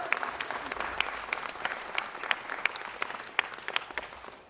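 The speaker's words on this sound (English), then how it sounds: "Let's give them a big round of applause." An audience at a city council meeting applauds a couple's 50th anniversary, a moderately quiet, dense patter of claps with sharper individual hand strikes standing out, sustained steadily throughout.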